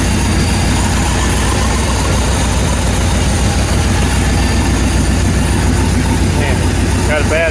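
1988 Chevy K2500 truck engine idling roughly with a bad exhaust leak, a loud close low rumble pulsing unevenly and continuously, with a voice briefly talking near the end.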